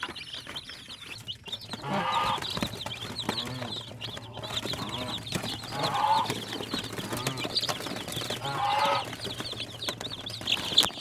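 Young free-range village chicks in a brooder box in a cold area: continuous high cheeping and peeping from many birds over a steady background hum, with a few louder chirps standing out.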